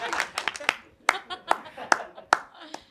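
A stand-up comedy audience gives a few sparse claps, about seven separate sharp hand claps spaced unevenly, fairly close and fading between each.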